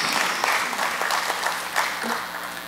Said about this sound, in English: I wish to invite you to give yourself a round of applause for that